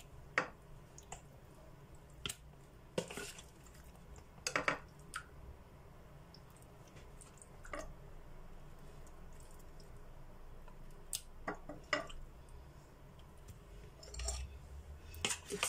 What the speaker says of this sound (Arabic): هبتدي انزل بقى فيها على البانيه واقلبه مع بعض كويس برضو